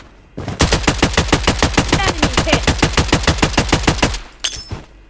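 Rapid gunfire in the video game BloodStrike: a long, evenly spaced burst of loud sniper rifle shots with a sharp crack to each, then a pause and a couple of scattered trailing sounds.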